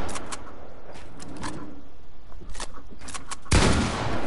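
Rapid gunfire from a drum gun in a video game, with bursts of shots scattered across the moment and a loud, dense burst near the end.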